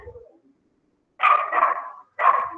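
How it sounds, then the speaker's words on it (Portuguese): A dog barking nearby during an online lecture, two loud close barks, the first drawn out and the second short, after a brief faint sound. "o cachorro começou a latir"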